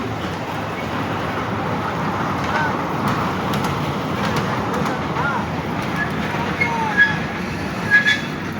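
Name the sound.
train passing through green parkland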